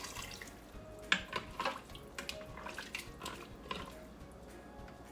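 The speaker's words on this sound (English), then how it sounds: "And I'm just using some hot water from the tap." Hot water running from a kitchen tap into a pressure cooker for cooking Jamaican cow foot, a soft steady trickle with splashy surges and faint metallic clinks, close and fairly quiet.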